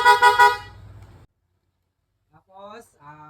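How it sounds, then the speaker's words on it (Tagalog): A loud Bosch EC6 car horn honks briefly at the start, followed by silence, then a second, softer horn toot near the end. "Bosch EC6 horn with combo light."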